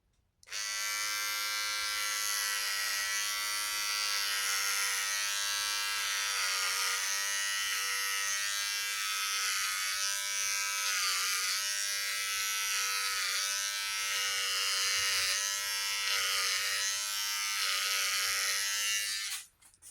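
Electric hair trimmer buzzing steadily and close up while a person cuts their own hair, a continuous drone holding for nearly twenty seconds, with slight shifts in pitch and level as the blades move across the head.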